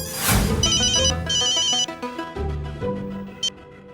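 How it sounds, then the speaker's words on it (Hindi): Telephone ringtone chiming loudly and clearly in a repeating electronic melody, alone without talk, during a call scene in a TV comedy. "मैं तारक से फोन करके पूछती हूँ"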